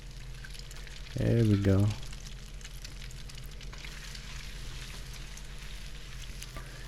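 An egg frying in a pan for breakfast tacos, a steady soft sizzle running throughout, briefly masked by a voice near the start.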